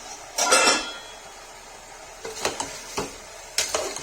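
Parwal and potato sabzi with salt being stirred in a pan, bursts of spoon scraping and clattering against metal over a faint sizzle, in three separate rounds with quieter gaps.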